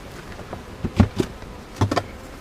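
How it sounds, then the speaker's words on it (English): Honeybees buzz around an opened hive during a spring inspection after six months undisturbed, a low droning hum with a few louder passes of bees close to the microphone over soft background noise. "the bees are starting to creep up and try and figure out what's going on"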